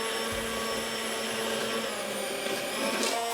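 Steady whirring of an electric mixer or blender beating homemade mayonnaise as oil is trickled in slowly, a continuous motor drone with a faint rising pitch near the end.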